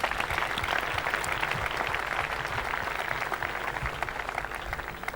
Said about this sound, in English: I'd like to give him a round of applause myself,